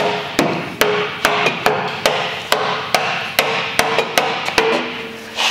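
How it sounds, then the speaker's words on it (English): Sharp metallic hammer blows on the inside of an HRE alloy wheel ring out about every half second, a dozen or so strikes with a ringing resonance after each, close and loud. "I'm hitting the inside of an HRE with a fucking hammer."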